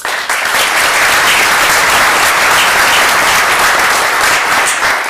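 Sustained audience applause fills a luncheon hall at an international affairs senior event, dense and steady, loud and close throughout with no talk over it.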